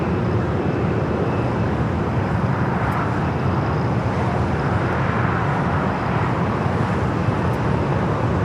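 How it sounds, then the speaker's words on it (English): An Airbus A380 airliner at LAX roars as a loud, continuous broadband jet rumble that stays steady and close throughout, with no voices. "A380 up next on the north side."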